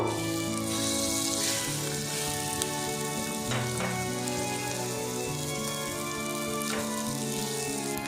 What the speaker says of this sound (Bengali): এবার কড়াইশুঁটির ভাপাগুলো আমি এর মধ্যে দিয়ে ফ্রাই করে নেব